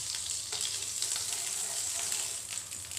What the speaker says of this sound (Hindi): फ्लेम को ऑन करके एक नॉन स्टिक तवा गरम कर लिया है। अब उसके ऊपर हम ये बटर डालेंगे।